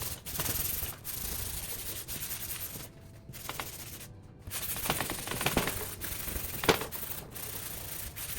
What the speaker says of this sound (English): I'll go ahead and just sand this smooth with 180 sandpaper.